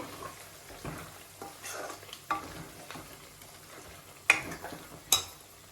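Chicken pickle masala fries on a low flame with a soft sizzle, while a spoon stirs and scrapes the pan and gives a few sharp clinks, close and quiet, with no voices.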